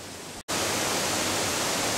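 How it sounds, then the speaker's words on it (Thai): Tat Lu waterfall, where fast-flowing water rushes over a cliff edge onto rock, makes a loud, continuous broadband roar that is briefly cut off near the start. "ก่อนที่น้ำจะไหลตก ที่ปากเหวน้ำตกตาดหลุ มันจะเป็นสายน้ำที่ไหลเชี่ยวลงมาตลอดนะครับ"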